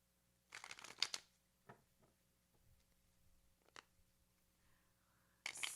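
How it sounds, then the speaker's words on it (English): Tarot cards being shuffled by hand make quick papery riffling bursts near the start and again at the end, with soft scattered card taps and clicks in the quiet between them. "Let me shuffle."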